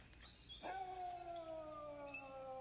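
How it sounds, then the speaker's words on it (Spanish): Wild dogs in an animated film let out a long, drawn-out howl that slides slowly downward, with a second fainter howl overlapping it, at moderate distance with no speech. "¡Están aullando!"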